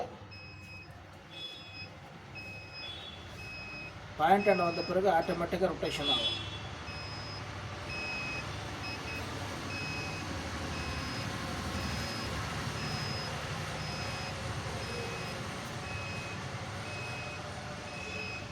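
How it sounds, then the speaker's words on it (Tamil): A ROBO borewell water point detector emits a steady series of evenly spaced electronic beeps that run throughout, with someone speaking briefly near the start over a faint background hum. "அந்த பிப் பிப் சவுண்ட் வரும் பாருங்க"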